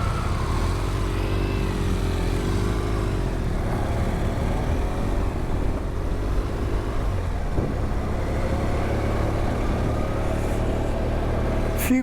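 Motorcycle engines idle and rumble as bikes roll onto a ferry, a continuous low droning mix of engines close by, with a brief clatter at the end.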